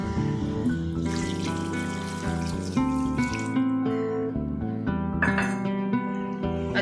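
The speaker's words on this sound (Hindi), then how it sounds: "यहाँ तकरीबन इसमें हम 2 कप पानी ऐड करेंगे।" About two cups of water pour into a pot of chicken karela, a steady splashing, running flow heard close and continuously under background music.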